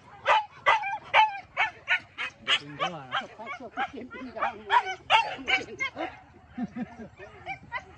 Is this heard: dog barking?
yes